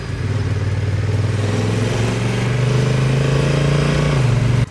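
A Honda NT 1100 motorcycle with an automatic no-clutch gearbox is ridden, its engine a loud, close, steady drone that rises gradually in pitch and dips briefly near the end, with no talk.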